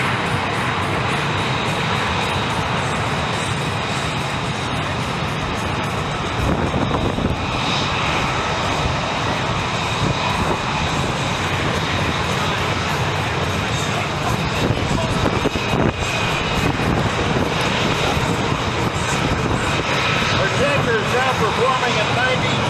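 Engines of a C-17 transport jet during an air refueling pass at an air show make a loud, steady roar that fills the whole stretch, with a voice speaking over it.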